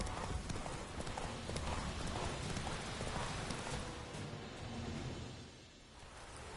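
Roach, the horse from The Witcher, gallops with steady, dense clip-clop hoofbeats close up, a continuous rumbling rhythm that eases slightly near the end.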